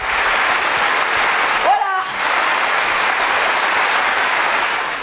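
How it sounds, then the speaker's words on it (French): A crowd at a memorial gathering for the A26 victims applauds loudly and steadily, with a brief dip midway where a voice cuts through before the dense clapping resumes. "Et on va tous applaudir"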